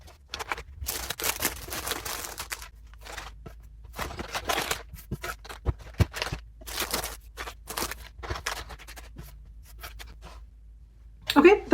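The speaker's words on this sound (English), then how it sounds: "I want to use some of my crinkle paper and cover up some of the brown" Crinkle paper shred is pushed and tucked into a gift basket around a bar of soap, making bursts of dry crackling and rustling close by, with short pauses between handfuls.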